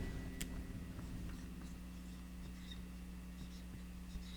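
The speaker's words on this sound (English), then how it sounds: "Okay, let me write that down." Pen or pencil writing notes by hand during a guitar lesson, a soft continuous scratching with small taps, faint and close under a steady low hum, no talking.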